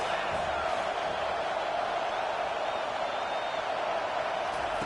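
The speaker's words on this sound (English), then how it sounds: "Here comes this home crowd as the defense tries to get off the field on 3rd down." A home stadium crowd roars in a College Football 25 video game as the defense tries to get off the field on third down, a loud, steady wash of cheering throughout.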